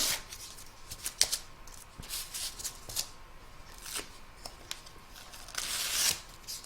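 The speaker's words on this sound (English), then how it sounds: "I'm going to turn my hoop over and trim up these little threadies." Small scissors snip loose embroidery threads on the back of a hoop, a series of quiet close crisp cuts and rustles at an uneven pace, with a louder rustling burst near the end.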